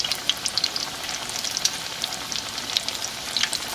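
Potato and cheese cakes frying in oil, a loud close sizzle dense with rapid spattering pops throughout, no voices.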